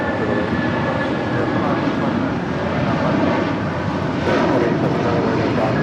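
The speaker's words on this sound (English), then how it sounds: "757 now at taking off on 25 right" A Boeing 757 taking off from runway 25 right at LAX, its jet engines roaring as a steady, loud broadband rush that swells slightly toward the end, with faint voices in the background.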